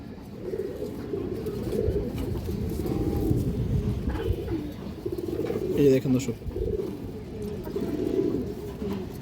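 Lively pigeons keep up a steady low cooing nearby, a soft continuous murmur with someone talking intermittently over it.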